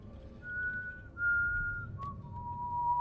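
A guard in the Dishonored 2 video game whistles a sustained, wavering tune, clear and fairly close, over a low rumbling game ambience.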